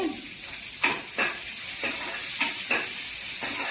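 Tempering (popu) with asafoetida (hing) and onion sizzling in hot oil for a South Indian pappu thotakoora dish, a steady close fry hiss with several soft stirring scrapes.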